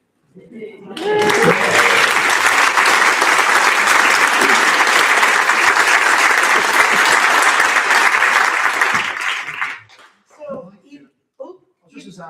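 An audience at Findhorn Festival claps to a song, a loud, sustained burst of applause that swells quickly, holds steady for about eight seconds, then breaks off into scattered claps and voices.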